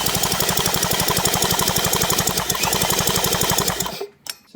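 A 1980 Chrysler Sea King 15 horsepower outboard engine turned over by a drill, giving a loud, fast, steady mechanical chatter that runs for about four seconds, then cuts off abruptly and leaves a couple of faint clicks.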